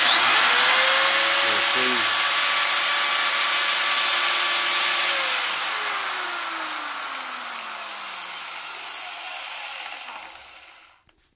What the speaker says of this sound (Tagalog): 650 watts ang aton nga grinder. On ta.